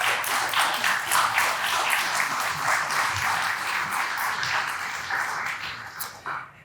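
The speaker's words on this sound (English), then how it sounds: "How about a round of applause for that?" An audience at an annual business meeting gives a round of applause, a full, continuous clatter of many hands that holds steady for several seconds and fades near the end.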